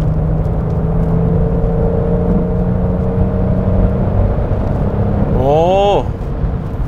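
Interior engine note of a Genesis GV70 3.5 gasoline turbo accelerating from highway speed, a steady hum under road noise that swells into rising, then dropping engine tones near the end.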